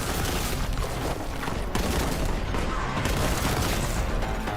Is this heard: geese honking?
no